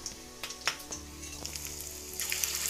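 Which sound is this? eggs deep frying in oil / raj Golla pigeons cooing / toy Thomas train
eggs deep frying in oil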